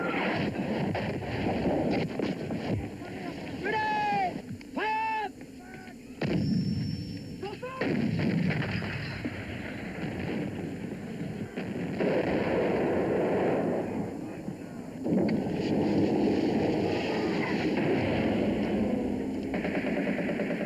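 A heavy Falklands War artillery barrage rolls on with repeated booms and rumbling blasts under wind-like noise, sustained and dense throughout with a few whistling tones early on.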